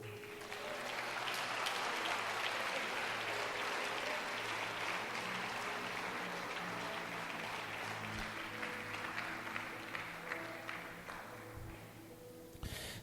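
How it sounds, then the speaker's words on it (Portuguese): A church congregation at a Bola de Neve service in Itaquera applauds together, a dense, sustained wash of clapping heard from some distance that stays fairly even and eases slightly toward the end. "aplauda o Senhor."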